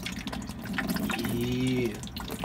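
Slime activator liquid pours into a container, a close burbling stream of liquid lasting about two seconds with a rising gurgle as it fills.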